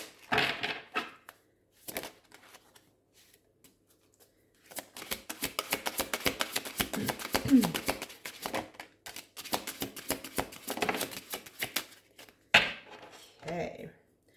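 Tarot cards being shuffled by hand, a run of rapid papery riffles and flicks in close-up, with a few louder taps and pauses between bursts of shuffling.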